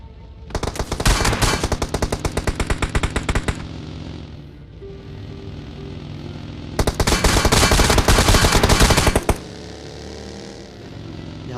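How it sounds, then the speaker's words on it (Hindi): Video game gunfire aimed at the player, heard as two loud bursts of rapid automatic shots a few seconds each, separated by a quieter stretch of low ambient rumble. "यहाँ पे तगड़ी मेरे पे फायरिंग करी गई थी"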